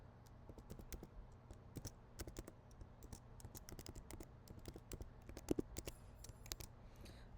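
A password is typed on a computer keyboard as a quiet run of irregular, close key clicks with short pauses between bursts.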